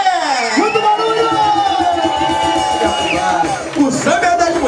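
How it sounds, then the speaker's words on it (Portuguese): A crowd at a live samba show cheering and whooping loudly, with excited shouting voices layered over scattered clapping, close and energetic throughout. "temos a honra, o privilégio de receber, para os aplausos de todos vocês, Andréa Café!"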